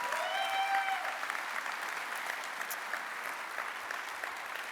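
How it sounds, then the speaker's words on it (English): A crowd applauds at the ISL 2025 graduation ceremony, a dense, even roar of clapping that holds steady throughout, fairly soft and distant in a large hall, with faint tones at the start. "Let's give them another round of applause, please."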